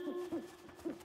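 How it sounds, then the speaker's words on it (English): An owl in the Arctic game Never Alone gives three short hoots at an even pitch, soft and somewhat distant against a quiet ambient background. "Oh, that's an owl."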